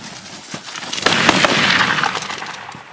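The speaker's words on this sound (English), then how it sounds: "A volley of shots thundered out" A volley of rifle shots fired at a charging buffalo in sickle bush: a quick cluster of sharp, loud cracks followed by a rumbling, noisy tail that fades out.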